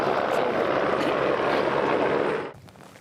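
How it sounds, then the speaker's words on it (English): A Texas Department of Public Safety Aircraft Division helicopter near the border gives a loud, steady roar of rotor and engine noise that drops away abruptly near the end. "Helicopter comes in."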